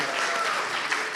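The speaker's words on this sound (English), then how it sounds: "Give him a little smaller applause." An audience at a forum event gives brief, even applause, a short burst of many hands clapping at moderate volume with no voice over it.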